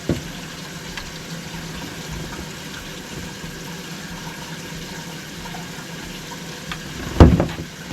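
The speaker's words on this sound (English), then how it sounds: "I'm going to run some hot water in there now and just watch it again" Hot water runs steadily from a tap into a sink drain during a plumbing repair done with channel lock pliers, a constant close hiss and gurgle with a brief louder splash near the end.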